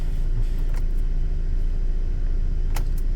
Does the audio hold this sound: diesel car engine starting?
yes